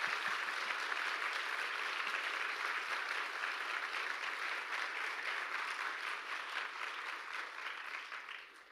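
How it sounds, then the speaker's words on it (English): An audience claps for performers at an evening event, a full, even round of applause that holds for several seconds and gradually tapers off near the end. "So please give them another round of applause."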